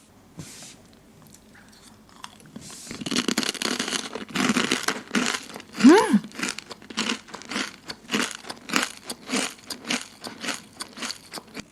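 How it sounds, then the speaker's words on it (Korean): Loud, close crunching as coconut crunch nut snack with dried coconut chips, pecans and cinnamon is bitten and chewed, a crisp rustle first, then rapid rhythmic crunches with no talking. "이게 처음 씹었을 때 진짜 바삭바삭하고"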